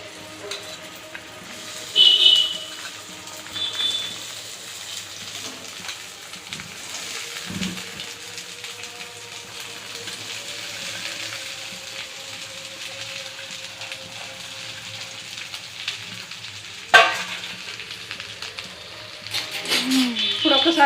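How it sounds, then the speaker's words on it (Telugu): Okra added to two spoons of heated oil sizzles with a steady, soft hiss and occasional louder crackles and stirring clatter, while a voice talks over it. "ఆయిల్ కొంచెం వేడైన తర్వాత బెండకాయలు వేస్తున్నానండి"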